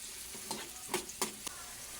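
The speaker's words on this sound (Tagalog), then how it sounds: "Nagisa lang po ako ng bawang sibuyas" Garlic and onion sautéing in a pan for sardines with vegetables: a soft, quiet sizzle with a few sharp stirring clacks spaced about a quarter second apart.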